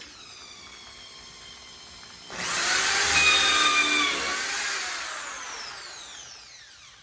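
Power drill boring holes into a furniture niche during assembly, a sudden high whine that starts after a quiet stretch and holds steadily close up for several seconds before slowly winding down.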